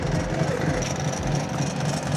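A Street Fighter motorcycle idles during a group ride in Ratchaburi, Thailand, giving a steady, loud low rumble that holds evenly throughout with no break.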